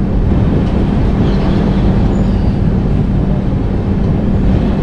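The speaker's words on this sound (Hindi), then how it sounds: "हमारी जो ट्रेन है अब मुड़ चुकी है काजीपेट जंक्शन की ओर" Rajdhani Express train rolling along the rails near Kazipet Junction, a loud, continuous rumble and roar heard from on board, with no voices.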